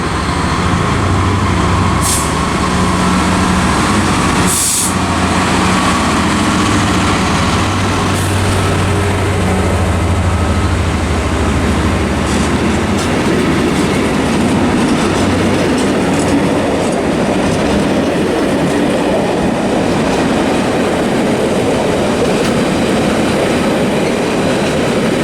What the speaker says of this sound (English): next though, we've got some freight passing through